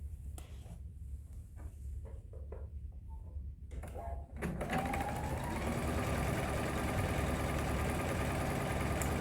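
After a few soft handling clicks and taps, a sewing machine starts stitching a finishing seam near the fold of a fabric book pillow, running as a steady, close, continuous mechanical whir until the end.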